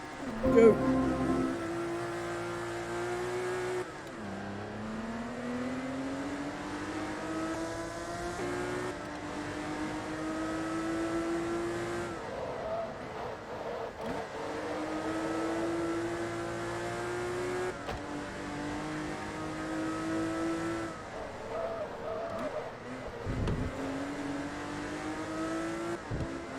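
TVR Tuscan S race cars roar through a Forza Motorsport 2 race, with a steady engine note rising and falling across repeated gear shifts and a narrator talking over it throughout.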